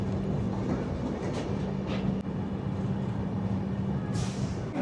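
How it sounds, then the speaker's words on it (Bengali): A train pulls into platform 2 at Balasore railway station with a steady low rumble and rolling hum, heard from on board, plus a short hiss near the end and no speech. "এসে গেছি বালাসর রেলওয়ে স্টেশন। 2 নম্বর প্ল্যাটফর্মে ট্রেন ঢুকেছে।"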